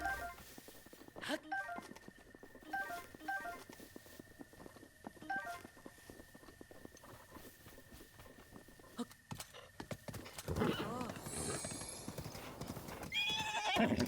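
Horse hooves clip-clop in a steady walking rhythm in The Legend of Zelda: Breath of the Wild, then a loud whinny rises near the end over a busy game background.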